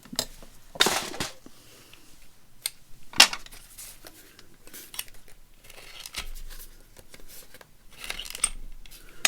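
A few sharp, crisp punching clicks of a corner rounder on a paper tag, spaced apart, close up among quiet handling rustles.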